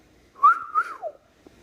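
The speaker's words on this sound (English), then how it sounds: "Wolf whistle." A two-note wolf whistle, a rising then falling human whistle, sounds once, close and clear against near silence.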